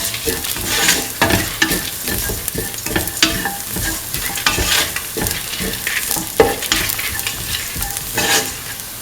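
Split chickpea semolina mixture stirred in a pan, with a spoon scraping in repeated, uneven strokes over a steady sizzle, close and fairly loud throughout.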